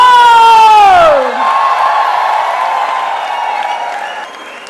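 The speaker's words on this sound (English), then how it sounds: "give a huge round of applause" Convention audience at a hospitality event applauding a celebrity chef; a loud voice fades out at the start, then steady, broad clapping and crowd noise fills the hall, slowly tapering.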